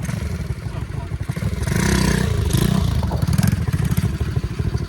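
A pit bike dirt bike engine revs hard through a wheelie, a loud, close, raspy mid-pitched drone that swells and holds, with clattering and scraping mixed in.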